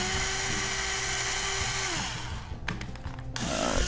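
A drill with a small 1/16 inch bit bores a pilot hole into wood, a steady high whine that winds down in pitch and stops. Brief clatter and rattle follow, close and fairly loud.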